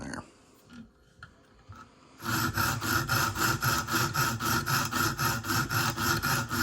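A Smith & Wesson Extreme Ops knife is drawn across a sharpening stone in quick, rhythmic rasping strokes, close and steady. A few seconds of quiet handling come first, then the strokes begin.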